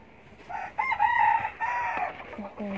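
A pair of glossy black chickens calls out in a series of loud, close, tonal clucks and squawks, with short pauses between the calls and no talking.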